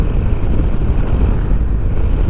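Strong wind buffets the microphone beside a road toward Batangas, making a continuous loud low roar and rumble with no talking.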